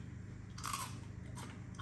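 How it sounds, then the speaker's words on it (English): Crunchy, crispy fried chips, served alongside fire-grilled chicken, being bitten and chewed close up, giving a few sharp crackling crunches over a low steady background hum. "Look at these guys, crunchy, crispy,"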